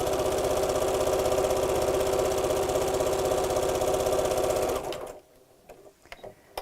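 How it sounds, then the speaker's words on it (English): Sewing machine with a dual-feed foot stitching a straight quarter-inch seam across the bottom of a patchwork purse, a loud steady rapid whir that stops after about five seconds, followed by a few small clicks and handling sounds. "with your 1/4 inch seam allowance, again, we're going to sew straight across the bottom"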